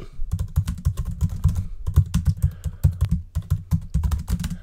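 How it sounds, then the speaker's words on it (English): Fast, steady typing on a 14-inch M1 Pro MacBook Pro keyboard, with a dense run of crisp, clicky key presses in close, continuous bursts and no talking. "I do prefer the keyboard on the MacBook. It's a bit more clicky"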